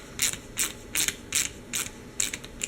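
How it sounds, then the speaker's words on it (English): A ratchet wrench clicks in steady repeated bursts while tightening jammed nuts on a threaded stud, seven quick rasping strokes evenly spaced, close but fairly quiet with no talking. "the ratchet"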